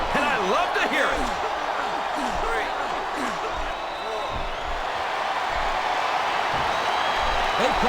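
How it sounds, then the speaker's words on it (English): Capacity crowd at a wrestling event roaring steadily throughout, a dense wash of cheering and shouting with occasional whoops and thumps, while commentators' voices ride on top. "This capacity crowd is making their opinions known tonight."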